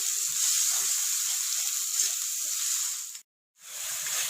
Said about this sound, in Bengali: মিডিয়াম আঁচে মশলাটা 3-4 মিনিট কষিয়ে নেব।